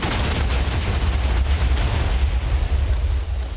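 A huge, sustained explosion as L'Manberg is blown up in Dream SMP Minecraft, a loud rumbling roar of continuous blasts and crackling debris lasting several seconds with no pause.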